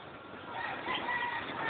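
A rooster crows at a distance, a thin, muffled call that rises and holds over a steady background hiss for under two seconds.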